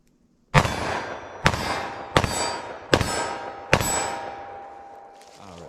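Five loud, sharp gunshots from a short-barrel .357 Magnum pistol fired outdoors, spaced under a second apart, each with a ringing decay and no talk.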